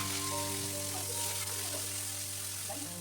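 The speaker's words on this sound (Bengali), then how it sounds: "কাল্লা ভাজাটা এদিকে হতে থাক" Bitter gourd (kalla) and onion frying in a pan, giving a steady close sizzle with a low hum running underneath throughout.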